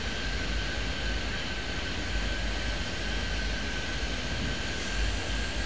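Airplane taking off in Airport Madness 3D, a steady, even engine roar with a constant whine, moderately quiet and unbroken throughout, with a single spoken word.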